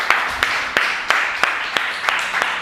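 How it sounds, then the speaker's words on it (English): An audience gives a short burst of applause, heard as a sparse, rhythmic run of separate claps in a hall that stays fairly light and close throughout. "let's give him a round of applause, folks"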